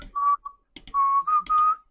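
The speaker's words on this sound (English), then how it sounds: "You gotta whistle, eh?" A person whistles a short tune up close, several clear sustained notes separated by brief pauses, with a few faint clicks between phrases.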